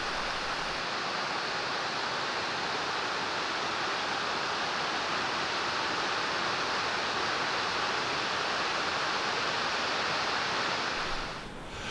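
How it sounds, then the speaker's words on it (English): Broad, steady roar of waterfalls pouring over limestone travertine barriers at Plitvice in Croatia, continuous and loud from start to near the end, with no voices. "As the limestone barriers appear, waterfalls appear."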